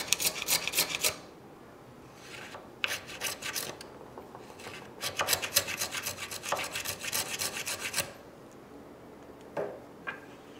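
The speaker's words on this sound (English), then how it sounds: "I just need to broach out those corners." A homemade broach ground from an old file scrapes out the corners of a wood cavity for a Damascus chef's knife handle, heard as bursts of close, raspy strokes in several runs separated by brief pauses, with no talking.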